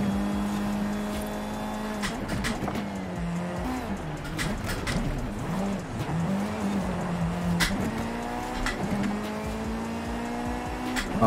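Race cars roar through a circuit race in the video game Forza Horizon 5, played on a high-end racing simulator. Engines rise and fall steadily, with gear shifts and occasional tire squeal, and no one talks over them.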